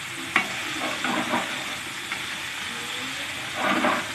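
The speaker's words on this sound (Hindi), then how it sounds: "और हमें इसे अब सैलो फ्राई करना है जब तक हल्दी क्रिस्प नहीं हो जाएगी" Arbi (taro) shallow frying with turmeric in a pan, a soft continuous sizzle broken by a few stirring scrapes and louder bursts of spatter, close and fairly quiet.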